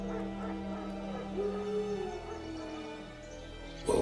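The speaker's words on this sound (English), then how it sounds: "Wild dogs." Wild dogs in The Witcher 3 video game give a brief whining, yipping call at mid-distance over a steady droning game ambience, with a sharp louder sound at the very end.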